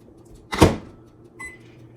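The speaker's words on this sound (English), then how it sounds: "and then I just put it in the microwave." A bowl sliding into a microwave oven gives one loud, brief thump and scrape, followed by a fainter click that sounds like the door shutting. A steady low hum stays in the background.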